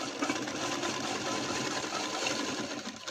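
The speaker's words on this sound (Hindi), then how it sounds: "इसमें हम ऐसे ऊपर से सिलाई लगा लेंगे यहाँ पर" Close and steady, a sewing machine hums continuously as it top-stitches a stretchy fabric hair band, with no pauses or talking.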